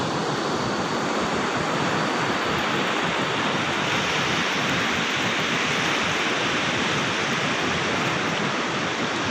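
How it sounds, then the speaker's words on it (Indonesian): River mouth of the Sancang stream flowing into the sea at the edge of the Sancang forest on the southern coast of Garut: a loud, dense, unbroken rush of water and surf fills the scene without pause. "suasana muara kali sungai Sancang, hutan Sancang di tepi pantai selatan Garut"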